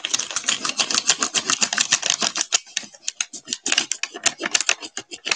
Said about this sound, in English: Paper rattling is like my least favorite thing.